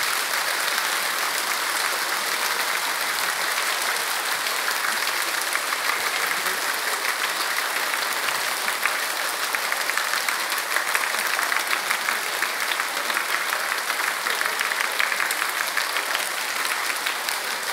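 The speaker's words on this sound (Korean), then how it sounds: "1분 동안에 박수 쳐서 많이 나온 사람 책 드리겠습니다" Audience in a lecture hall clapping as fast as possible for a one-minute clapping contest, a dense, continuous roar of rapid applause that stays loud and steady throughout, with no speech.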